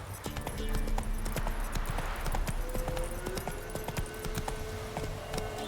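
Rhythmic clip-clop of a horse galloping in The Witcher 3, steady hoofbeats close and loud throughout, with game ambience and a faint voice now and then.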